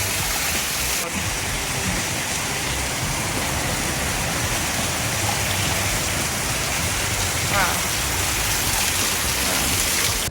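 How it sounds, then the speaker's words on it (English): Heavy rainy-season downpour in Arusha, Tanzania, a dense steady roar of rain pouring on surfaces, loud and continuous throughout with no gaps. "it's been raining like crazy for the past couple of minutes now"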